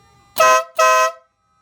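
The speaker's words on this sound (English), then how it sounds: "Next up, we got the bad boy air horn from Harbor Freight." A loud Harbor Freight air horn fitted to a motorcycle blasts twice in quick succession, close and piercing, then cuts off into silence.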